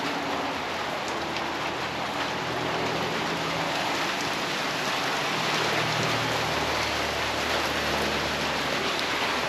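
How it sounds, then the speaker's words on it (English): Steady rain pours outside a garage, a dense, even hiss of drops hitting surfaces that stays loud and constant throughout, with no voices. "we need the rain, so I will welcome it"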